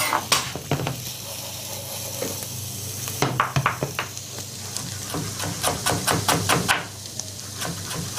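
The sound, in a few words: vegetables and potatoes frying in oil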